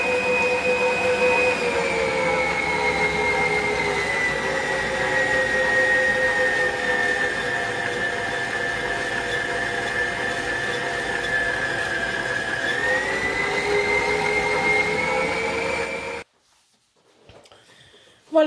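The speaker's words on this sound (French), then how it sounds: "Ça fait environ 5 minutes qu'elle est en train de pétrir." Stand mixer at speed 3 kneading burger bun dough, a steady loud motor whine holding an even pitch with a slight dip near the end before cutting off abruptly to near silence.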